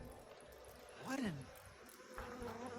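Insects buzzing in the horror video game Outlast 2, a faint droning whine with a rising and falling swell near the middle, heard under a quiet background.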